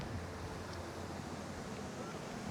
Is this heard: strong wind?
yes